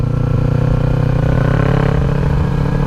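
A 2014 Kawasaki Ninja 300 ABS high-revving engine drones loud and close, holding a steady, smooth tone with a slight rise in pitch across the stretch.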